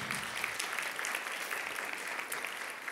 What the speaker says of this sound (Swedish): Det är härligt att få applåder innan man ens har börjat.